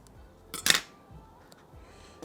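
Silicone wire snipped with cutters while preparing Traxxas and E-flite EC5 connectors for soldering: one short, crisp clip close by, followed by quiet handling noise.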